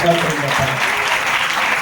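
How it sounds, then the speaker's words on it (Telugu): A worship congregation at a youth fasting prayer meeting claps together, a dense, even wash of applause lasting just under two seconds. "చప్పట్లు కొట్టి దేవుడికి"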